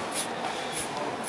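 White spray paint hissing from a can in short bursts around the outline of a graffiti piece, close and fairly soft with no talking.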